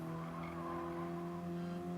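A race car in Gran Turismo Sport brakes hard with a sustained, steady tire squeal and skid over a droning engine, loud and continuous throughout, with no talking.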